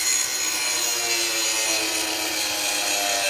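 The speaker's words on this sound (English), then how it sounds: "we're grinding off the head of the bolt from the bottom" Angle grinder cutting through a corroded, rusted bolt head underneath a 20-year-old Ford SVT Lightning truck frame, a steady, loud, harsh hiss of abrasive on steel that runs unbroken the whole time, close by.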